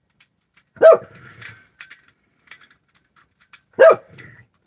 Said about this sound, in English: Sorry about Guy barking.